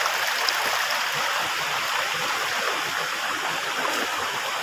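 Water pours steadily over an artificial waterfall built around a large boulder, a constant loud broadband rush with no pauses and no voices.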